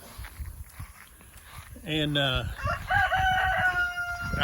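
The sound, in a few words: chickens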